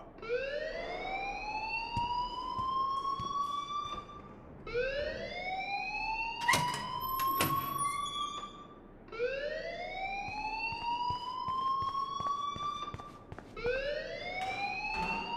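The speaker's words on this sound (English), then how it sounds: "please turn off that alarm since that's your job" A school alarm in Life is Strange wails in repeated rising sweeps, four long upward-gliding tones each lasting about four seconds, loud and close, with sharp clangs layered over the second cycle.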